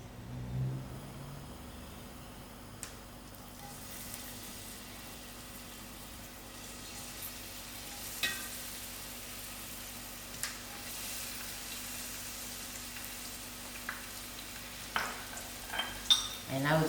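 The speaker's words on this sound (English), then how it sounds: "allow these onions to fry out red." Onions fry in a quarter cup of oil in a flat pot, giving a faint, steady sizzle with occasional soft clicks and taps of stirring, heard fairly close and with no talking.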